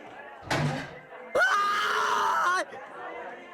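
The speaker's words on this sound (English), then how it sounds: "I screamed." A sudden screaming voice in the visual novel Chaos;Head NoAH follows a short burst of noise, holding one loud, strained, rising cry for about a second before cutting off into quiet murmur.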